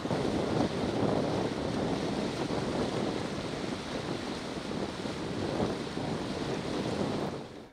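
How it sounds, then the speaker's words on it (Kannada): Krishna River floodwater rushes into the Basava Sagar dam after heavy rain, a broad continuous roar of churning water mixed with wind buffeting the microphone, loud and unbroken throughout. "ಬಸವಸಾಗರ ಡ್ಯಾಂಗೆ ಅಪಾರ ಪ್ರಮಾಣದ ನೀರು ಹರಿದು ಬರ್ತಾ ಇದೆ."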